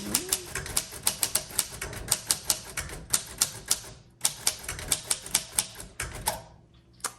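Brisk, even keystrokes hammer out on a 1938 Royal Model O manual typewriter, close and crisp, with a short pause midway and a carriage movement winding down at the end.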